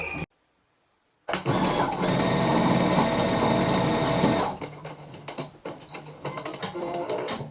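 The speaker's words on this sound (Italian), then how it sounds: "Adesso vado con un punto dritto ad effettuare questa cucitura" Domestic sewing machine running a straight-stitch seam on a fabric duck, starting after a moment of silence with a loud, steady whir for about three seconds, then slowing into softer, uneven mechanical clicks and fabric handling.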